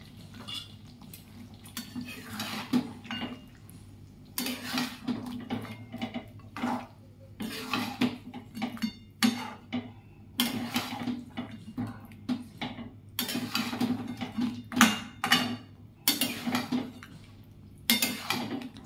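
Cashew paste being stirred in a cooking pan for a coriander chicken curry: repeated scraping and clinking of a metal spoon against the pan in irregular bursts, close and moderately quiet, with no talk.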